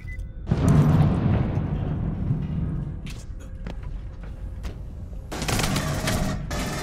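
Gunfire from a pistol in the sci-fi shooter game Aliens: Colonial Marines, a loud burst up front that trails into a lingering rumble before another dense crackling volley near the end.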